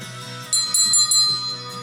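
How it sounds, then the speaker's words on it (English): A real school bell rings loudly and steadily with bright metallic overtones, sounding from close by and swelling in a few strong pulses over roughly two seconds with no talk. "And that actually is a school bell. It's a real school bell."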